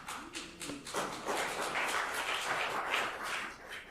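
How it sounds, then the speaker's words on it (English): Audience applause at the USIPA IP Alliance Conference swells in after a quiet opening second and holds as a steady, dense wash of clapping, somewhat distant and picked up through a remote microphone. "I hope you can hear that applause that's coming through your microphone"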